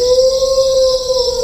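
A lone jackal howls at night in the distance, one sustained, steady wailing tone held for the whole moment with no other voices around.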